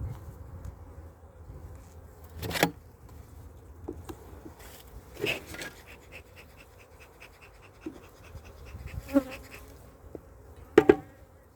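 A steady, close buzzing of many honeybees with occasional louder passes as individual bees fly near, no voices present.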